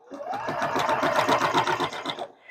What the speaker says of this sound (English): So I'm just going to drop my needle and drop my presser foot right there at the base of the E and start stitching